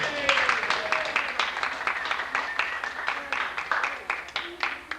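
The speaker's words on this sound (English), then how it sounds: "Let's hear a big round of applause for Mr. Michael Landon." At a church Christmas program, an audience claps for Michael Landon, a moderate, uneven patter of applause with voices murmuring and speaking faintly underneath.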